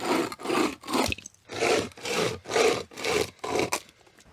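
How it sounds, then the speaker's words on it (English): A small Overmont chainsaw cuts firewood outdoors in freezing winter conditions. It gives about eight rasping cutting strokes in a steady rhythm, each rising and falling in loudness, close and loud with no talking. "this little chainsaw that I got from Overmont is performing way better than I thought it would"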